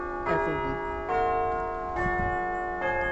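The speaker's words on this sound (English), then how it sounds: "with the sound of the bells echoing" Church bells ringing at Corkbeg in an Ellacombe celebration peal, several clear resonant strikes about once a second, each ringing on and overlapping the last, fairly close and prominent with no talk.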